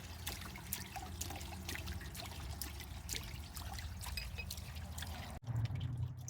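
Water drains and sloshes out of a Casita camper's water heater, trickling and dripping steadily at close range. A brief thump near the end is followed by a lower gurgle.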